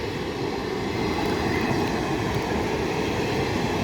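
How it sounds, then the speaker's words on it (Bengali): A down train rumbles steadily past Hooghly Ghat railway station, a continuous heavy rolling noise at a moderate distance, with no voices. "ডাউন ট্রেনটি নৈহাটি রেলওয়ে জাংশন অভিমুখে যাচ্ছে"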